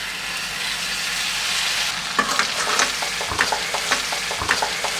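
Hot fish pickle sizzles after a teaspoon of synthetic vinegar is poured in, a steady loud hiss that turns into a series of crackling pops and spoon scrapes.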